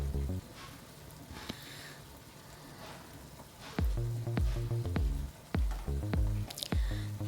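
Chicken fry sizzling in hot oil with garam masala and coriander powder, a steady frying hiss broken by several loud stirring scrapes and clatters of a spoon in the pan, close up with no talking.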